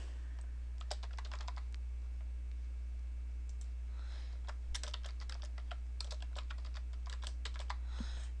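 Close typing on a computer keyboard comes in quick bursts of clicking keystrokes separated by pauses, over a steady low electrical hum.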